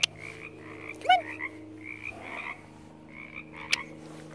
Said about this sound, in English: Just frogs.